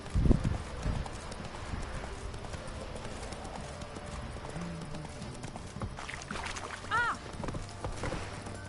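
Hooves of the horse Roach from The Witcher 3 clop along steadily at moderate volume, with game ambience, a brief voice and other background sounds layered over the riding.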